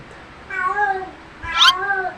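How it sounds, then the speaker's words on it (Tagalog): Two drawn-out cat meows in quick succession, the second louder and more strained, heard close with little else around. "Ingay ng pusa."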